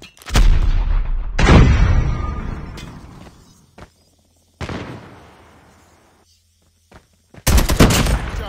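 A frag grenade blast and heavy gunfire in a search-and-destroy match of a first-person shooter, loud booming bursts with sharp reports, a gap of quieter decaying rumble, then another loud burst at the end.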